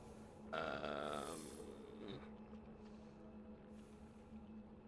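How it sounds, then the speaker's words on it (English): A loud, close throat clearing, a rough guttural rasp lasting about a second, followed by quieter breathy noises over a steady low hum. "I need to clear my throat."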